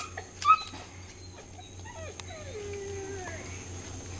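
Great Dane whining and whimpering in thin, wavering high cries, several drawn-out rising and falling whines at close range over a low steady hum, with one brief louder yelp near the start.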